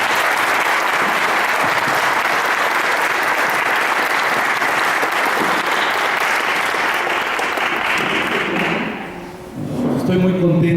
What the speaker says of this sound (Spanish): Le damos un aplauso a Jaime.